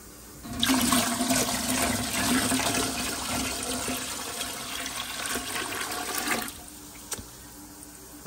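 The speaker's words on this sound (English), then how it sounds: "here's the final pitcher of water. We'll dump that in." A pitcher of hot water is poured out in one steady rushing splash lasting several seconds, then cut off sharply, with a baking soda mix being used to strip paint.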